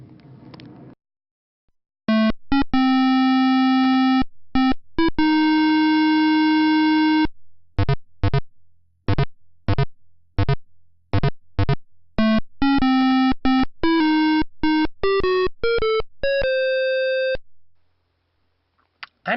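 Title card music from Sierra's Police Quest 1, a 1980s PC game, played as bleepy single-voice square-wave tones: a long held note, then a rapid series of short staccato beeps and sustained pitches, loud and alone.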